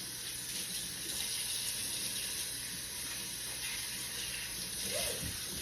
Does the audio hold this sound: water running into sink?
yes